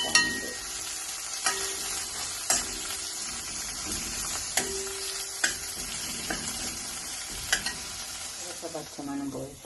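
Curry leaves and green chilies sautéing in a pan for a rajma dish, a steady close sizzle broken by sharp clicks and scrapes from stirring, with no talking.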